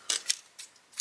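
Scissors snip through vinyl in a quick series of four short, crisp cuts, faint and close, with no voices.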